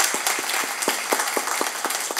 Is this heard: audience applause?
yes